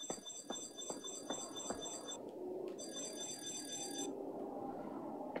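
An alarm rings in the video game Project Eden, a steady electronic bell-like tone that cuts out briefly and resumes, with scattered thumps and other game sounds underneath.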